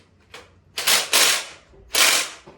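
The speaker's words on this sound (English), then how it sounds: "I just have to finish doing up the bolts." Someone does up the bolts on a car's newly fitted clutch and gearbox, making a few short bursts of ratcheting and metallic clicking with quiet pauses between them.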